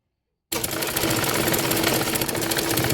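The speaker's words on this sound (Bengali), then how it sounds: "এবার পাইপিনের কাপড়টি বডি পার্টের কাপড়ের সঙ্গে সেলাই করে নিচ্ছি।" Sewing machine stitching piping fabric onto the body of a baby garment, a continuous rapid mechanical chatter starting suddenly and running steadily and close.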